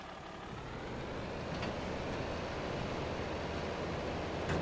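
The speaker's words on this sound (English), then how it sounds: "I think this trailer is going to be really heavy for this tractor." A tractor hauling a heavy trailer in a farming video game gives a steady, low engine drone with a broad rumbling hiss, quiet and constant, with no voices.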